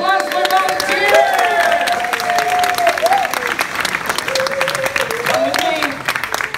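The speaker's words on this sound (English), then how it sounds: "Big round of applause for volunteers!" An audience applauds volunteers at a Universal theme park show with a dense, loud wash of clapping that holds for several seconds, while voices call out and talk over it.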